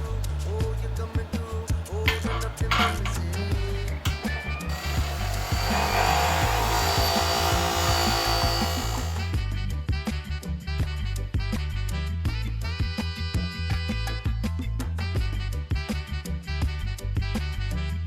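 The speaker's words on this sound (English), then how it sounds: "We got this thing all polished up with the bench grinder." A bench grinder's rough wheel polishes paint off a KX250 motorcycle shock body, a steady loud whirring grind that shifts in tone midway through.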